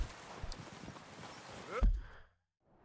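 Horse hooves clop along in a video game with a loose walking rhythm, fairly soft, with a person talking over them before the sound drops away to near silence.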